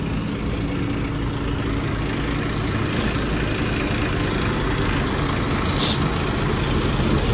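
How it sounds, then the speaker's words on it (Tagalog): A bus idles at a roadside stop, its heavy engine rumbling steadily and loud throughout, with a couple of brief higher clanks or squeaks and no clear talk. "So, ito yung bus namin."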